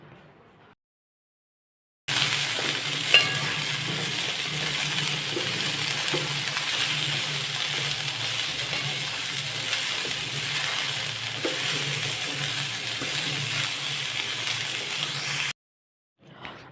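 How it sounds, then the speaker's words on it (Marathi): Mixed vegetables roast in oil in a wok over a high gas flame. A loud, steady sizzling hiss runs unbroken for about thirteen seconds, with no voices. "गॅस मोठा करून आता आपण या सर्व भाज्या भाजून घेऊयात"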